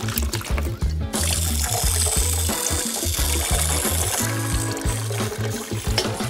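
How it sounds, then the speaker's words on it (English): Running water trickling steadily in a cat water fountain, a continuous dribbling pour layered over a dense, rhythmic pulsing mechanical backdrop that stays loud throughout. "Let's add a cat water fountain."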